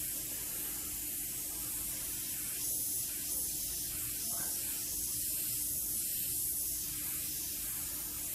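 An airbrush sprays paint for a smoky effect, giving a continuous soft, even hiss of air and paint that stays level throughout with no talking.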